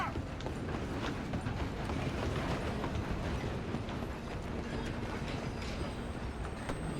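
A train in Red Dead Redemption 2 runs on its rails with a dense, continuous rumble and rhythmic clatter of wheels, mixed with hoofbeats from a galloping horse alongside, steady and fairly close.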